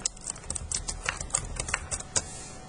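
Typing on a computer keyboard to search in a note-taking app: quick, irregular key clicks fall in a close, steady run with no voices.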